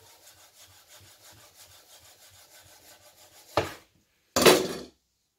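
A knife slices thin pieces from frozen chicken for homemade döner in quick, faint sawing strokes, then two louder scraping cuts follow with a pause between them.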